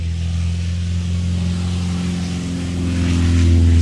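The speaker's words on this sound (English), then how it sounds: "Hold on, there's a car driving by." Car engine passing close by, a steady low rumble that swells louder toward the end with no talking over it.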